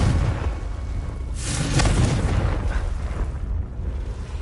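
A Confringo explosion spell goes off in a Hogwarts video game, a loud, close fiery boom that bursts after a second and a half and rumbles away into a low roar.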